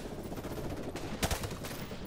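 Gunfire in Call of Duty Modern Warfare on PC, a short burst of rapid shots amid dense in-game battle noise, fairly loud and close.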